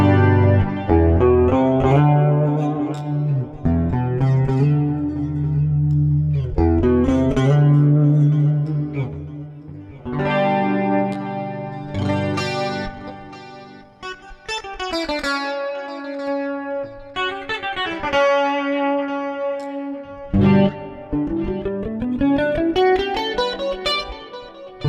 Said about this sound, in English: I'm switching between the 3 pickups here and using the coil tap switch.